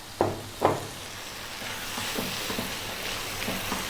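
Canned tomatoes drop into a hot pan of meat sauce with two quick splashy hits, followed by a steady loud sizzle and hiss with faint stirring.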